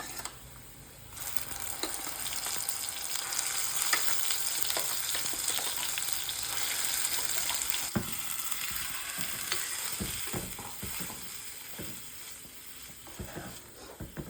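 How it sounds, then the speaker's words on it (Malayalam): Ground masala paste for a Kerala-style fish curry fries with golden shallots in hot oil, making a continuous quiet sizzle broken by occasional spatula scrapes and soft pops, most noticeable toward the end. "അപ്പോൾ നമുക്കിതിൽ അരച്ച് വെച്ച് അരപ്പിട്ട് കൊടുക്കാം"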